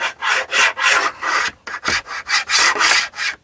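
A WORX Bladerunner X2 saw binding as it cuts wood, heard as a close series of rough, rasping bursts that stop and start in an uneven rhythm, each stroke loud and scratchy.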